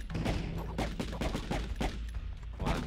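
Dense, continuous bursts of explosions and crackling blasts from the retro-style video game Extreme Exorcism, loud and overlapping for the whole stretch, with no talk.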